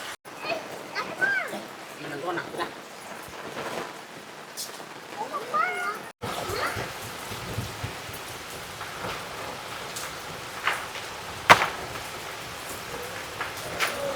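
Heavy rain pours steadily on surfaces in a forest village, a dense close patter with occasional sharper drops, while a person talks over it throughout.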